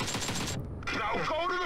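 A rapid burst of gunfire in PUBG Mobile as a magazine is emptied at close quarters, loud and dense for about half a second, then a brief gap before a voice talks over the game.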